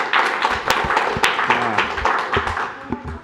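Audience members at a Royal Oak city commission meeting clap briefly after a public commenter finishes, a loose scatter of close hand claps with some louder individual claps and low murmur beneath.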